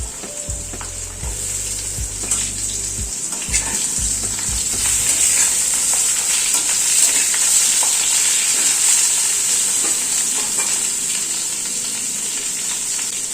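Potatoes and pointed gourd fry in a pan with a steady, loud sizzle, broken by a few stirring scrapes, a low hum at the start and no voices.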